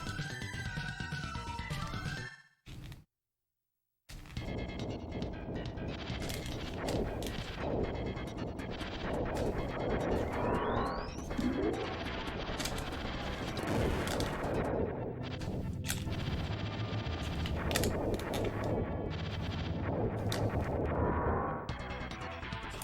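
Missiles and spread-shot weapon fire in the game Operation Logic Bomb, a dense, continuous barrage of retro explosions and shots over game music, broken by a brief silent gap near the start.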